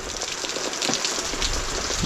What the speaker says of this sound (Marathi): पाऊस मोठा झाला